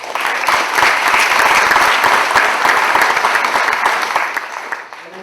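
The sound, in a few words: audience applause for mock trial competitors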